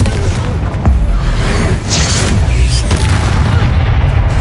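Loud spell explosions from Bombarda and Confringo in the video game Hogwarts Legacy, a dense barrage of booming blasts and bursts rumbling continuously, close and heavy.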